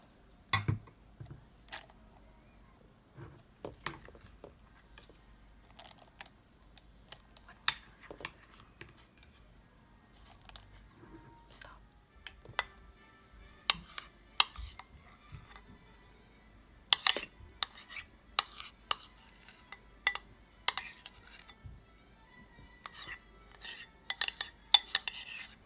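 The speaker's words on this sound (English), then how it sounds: "Get a spoon and scoop some of your filling in." A spoon scrapes and taps as yogurt cream filling is scooped from a bowl into a Ziploc bag held in a cup, giving scattered soft clinks and scrapes with quiet gaps between them.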